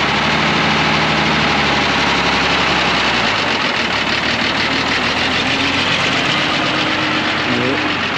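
A Mercedes diesel engine in a 4x4 expedition truck idles loudly and steadily up close, a dense continuous rumble with a rhythmic knock, running without a battery after repair.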